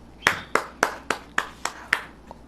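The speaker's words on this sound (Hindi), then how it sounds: "ताली बजाओ।" Seven sharp, evenly spaced claps from an audience at a church prayer service, each a crisp slap with a short decay, steady and moderately loud with no talking.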